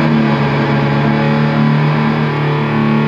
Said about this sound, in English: If I detune the guitar to drop D,